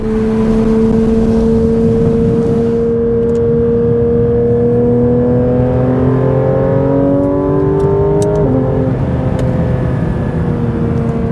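Engine of a roughly $400,000 car heard from inside the cabin with windows up, a steady drone whose pitch climbs through a long pull before a gear change at about eight seconds, continuous throughout with no talk.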